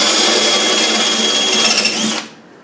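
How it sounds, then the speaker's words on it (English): A power drill grinds through pop rivets with steel shanks while knocking their heads off a Land Rover Defender seatbox panel, a loud, steady whine lasting about two seconds before it stops abruptly. "When you're drilling these rivets out, you just have to knock the heads off."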